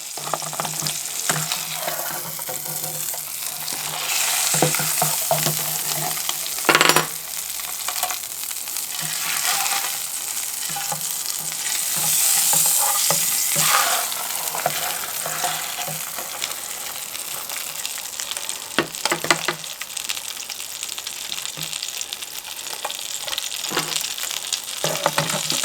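Blackfish frying in a pan gives a steady, close sizzle that runs throughout, with occasional crackles, spatters and stirring clicks on top and no talking.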